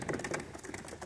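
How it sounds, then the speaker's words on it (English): Very young pigeons or doves kept in cages give soft, continuous cooing and murmuring calls, fairly close and steady throughout, with no talk over them. "These are very young birds."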